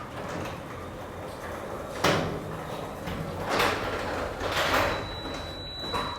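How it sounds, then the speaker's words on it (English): A garage door opens after being triggered by a Tesla's HomeLink, a steady rumbling drone with several louder swells and knocks as it moves. "And then it triggers the garage door because I have that set up"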